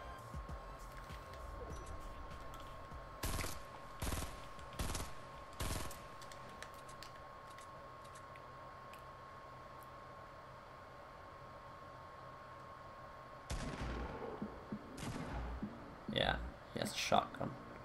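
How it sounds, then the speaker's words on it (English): Shotgun blasts in Fortnite Battle Royale ring out as several sharp, loud single shots spaced a second or so apart, followed later by a cluster of quicker shots, over quiet game ambience. "Shotgun."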